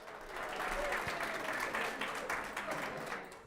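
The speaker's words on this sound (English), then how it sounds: "Would you give Stefano another big round of applause?" An audience at an art auction gives a warm, sustained round of applause that fills the room evenly for a few seconds.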